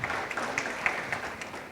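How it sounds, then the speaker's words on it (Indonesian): Sparse, half-hearted clapping from a church congregation during a worship service, faint and scattered with a few sharper individual claps over a steady room murmur. "Tepuk tangan yang sangat lemes"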